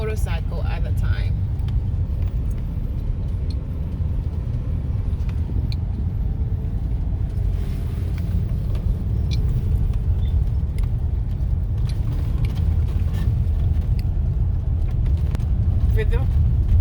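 Continuous street traffic in Cotonou, Benin rumbles close by, cars and motorbikes passing steadily, with voices talking over the noise.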